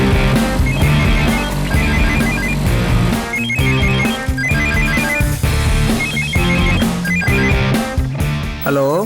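A telephone rings with a repeating electronic ringtone pattern that sounds loud and close, set against a busy music background in a Tamil television serial.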